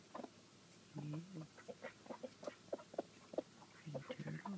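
A rooster and hens on a backyard flock give soft, scattered clucks and short murmuring calls. The sounds are close and quiet and come in irregular bursts, with a soft human voice nearby.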